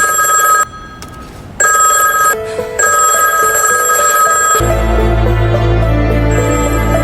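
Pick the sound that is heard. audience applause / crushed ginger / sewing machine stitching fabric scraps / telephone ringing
telephone ringing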